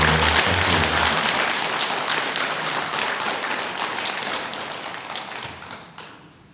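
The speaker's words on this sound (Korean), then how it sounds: "우리 다 같이 한번 박수 한번 치고 시작할까요" At a Korean Buddhist Saturday Dharma service, the congregation claps together in a dense, close burst that gradually tapers off over several seconds.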